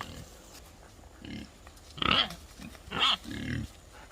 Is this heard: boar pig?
yes